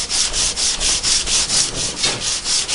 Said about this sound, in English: I'll work it with the 80 grit till you get the file marks out of it